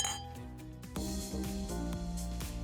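Wine glasses clink together in a toast after a tasting on a New England chef's cooking show, a bright chime at about a second in whose ringing tones hang and overlap with a few lighter taps.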